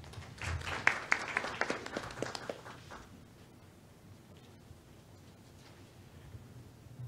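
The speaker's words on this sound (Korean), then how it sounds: "박수로 맞으시기 바랍니다." An audience at a university presidents' summit panel applauds to welcome the next presenter, a burst of scattered clapping for about three seconds that then fades into quiet room noise.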